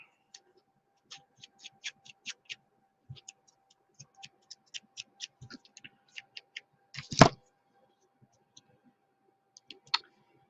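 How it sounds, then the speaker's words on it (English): Scissors distressing the edges of a paper card, a run of small crisp snips and scrapes in quick irregular succession, close and fairly quiet, with one louder rustle near the end. "we're just going to distress this a little bit with our scissors"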